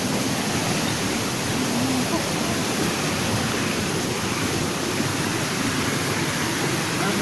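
The Kismun waterfall at Curug Cibodas, Puncak, gives off a loud, constant rushing roar of falling water, dense and steady from start to finish, with no other sound standing out.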